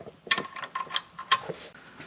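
Ratchet tightening differential mount bolts on a 2020+ Ford Explorer, a quick series of faint, close metallic clicks in an uneven rhythm.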